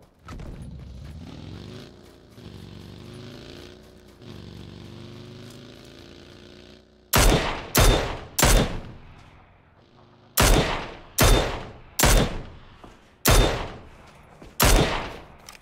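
Gunfire in the battle royale video game PUBG: Battlegrounds: after a stretch of low rumbling engine-like sound, a string of loud, separate single shots rings out at irregular intervals, each with a sharp crack and a decaying echo.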